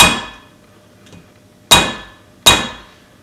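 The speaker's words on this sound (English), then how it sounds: "tap them a few times and make sure the keepers don't pop out." Three sharp taps from a plastic hammer on valve keepers in a Honda XR650L cylinder head. One opens the clip and two land close together near the end, with a faint knock between them in a quiet workshop.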